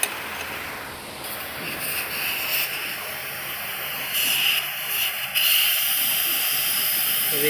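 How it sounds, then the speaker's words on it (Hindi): Air hisses steadily out of the air suspension on a Mercedes-Benz S 500 as a fitting is loosened, a continuous close, fairly loud rush that swells slightly partway through, with someone speaking briefly over it. "अभी इसका एयर निकल रहा है।"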